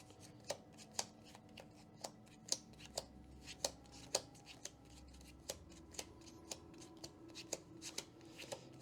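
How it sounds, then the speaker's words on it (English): A deck of game cards for the Kingdom Death: Monster board game is riffled and mixed by hand, giving a quick series of sharp, close papery snaps and flutters in an irregular rhythm against a quiet room. "So we'll just mix our cards up here."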